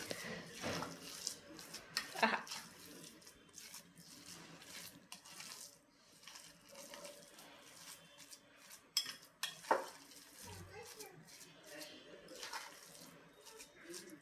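A spoon stirs coconut laddu mixture in a pan, with quiet scraping and scattered metallic clinks at an uneven rhythm and a few louder knocks against the pan.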